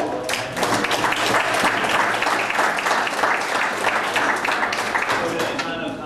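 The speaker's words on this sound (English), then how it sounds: "A little round of applause for Coach Bill." A soccer awards ceremony crowd claps steadily for a coach, a dense roomful of applause that holds at an even level for several seconds and then begins to thin near the end.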